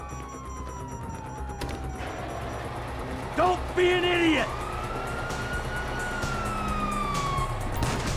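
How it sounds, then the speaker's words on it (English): Police sirens wail and sweep in the background during a GTA 5 mission, with a shouted line of dialogue and distant gunfire over the steady ambient noise. "you hear that? Sirens."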